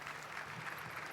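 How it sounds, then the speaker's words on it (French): An audience at a conference session applauds the Prime Minister of Benin, a soft, distant wash of steady clapping with no clear individual claps. "Applaudissons-le, s'il vous plaît."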